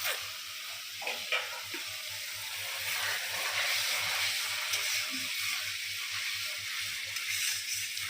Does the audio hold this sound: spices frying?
yes